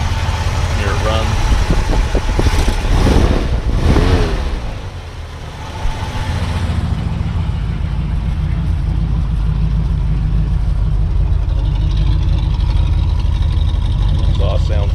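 A 1968 International Harvester 908 engine, a short-wheelbase pickup, runs steadily with a low, rumbling exhaust. A brief dip in level comes midway before the idle returns, and a person talks over the first few seconds.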